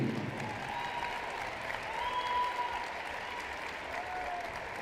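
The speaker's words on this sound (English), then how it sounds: "let's give a big round of applause to our 2022 Hope College tip-off all-tournament team" Steady applause from a crowd in a basketball arena honoring the 2022 Hope College Tip-Off women's all-tournament team, even and continuous with a faint tone drifting through.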